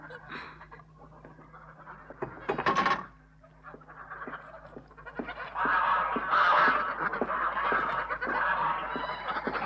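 Geese honk repeatedly in a lively, overlapping flock chorus, with bursts of nasal calls growing denser and louder in the second half, alongside some background rustling.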